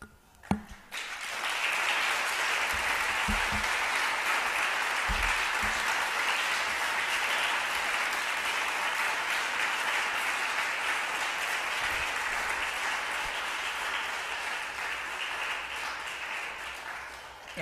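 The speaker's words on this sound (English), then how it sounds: "Let us all just send a round of applause to Mary, tell her we're thinking of her, and" An audience at a tribute event gives a sustained round of applause, beginning suddenly after a few thumps and holding a dense, even wash of clapping for over fifteen seconds.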